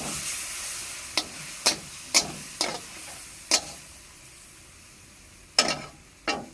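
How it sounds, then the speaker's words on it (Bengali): Kashmiri red chili powder spice mix fries in a pan, sharp spatula strokes landing at irregular intervals over a soft, steady sizzle, close by with no talk. "লাল কাশ্মীরি লঙ্কার গুঁড়ো দিয়ে দিলাম। ভালো করে ভেজে নিয়ে ভালো করে কষিয়ে নেব।"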